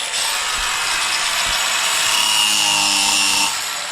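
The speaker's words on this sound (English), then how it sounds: "Cutting a few tack welds here" A power tool cuts through tack welds in a workshop, producing a continuous harsh grinding rasp of even loudness for several seconds before easing off near the end.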